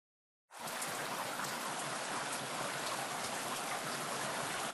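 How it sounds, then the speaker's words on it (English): Heavy rainfall pouring steadily onto a landscaped site with concrete and sod, a dense, loud, unbroken hiss of rain that starts abruptly and holds constant throughout. "During heavy rainfall, these materials, like concrete and sod, can only absorb so much water."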